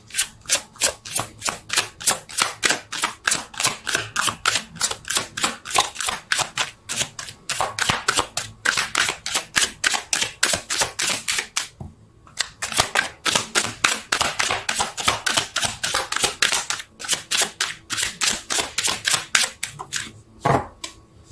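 A deck of cards shuffled with rapid, regular flicking snaps in long runs, broken by a couple of short pauses, close and crisp.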